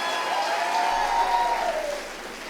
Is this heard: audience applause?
yes